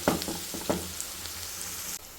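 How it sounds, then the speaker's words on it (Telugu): Beetroot fries in a pan with a quiet, steady sizzle. A few stirring knocks come early, then a lid clatters on at the end. "ఇలా అయితే ఫ్రై అవ్వాలి, ఇంకా ఫ్రై అవ్వాలి. సో ఆ లోపల మూత పెట్టేద్దాం"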